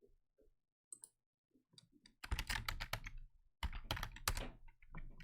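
Typing code for a React card component on a computer keyboard, with a few scattered clicks at first and then dense, rapid bursts of close-up keystrokes.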